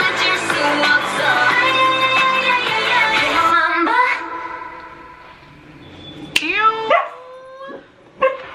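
A dog barks and yips a few times near the end, loud and close, after music with singing fades under it.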